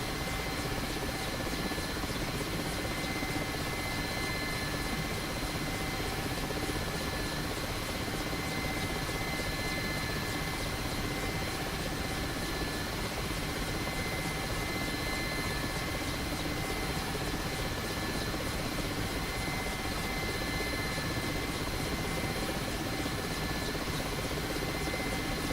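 A Mi-8 helicopter in the DCS flight game flies in formation, its rotor and engine roar a dense, unbroken drone that stays steady and loud throughout.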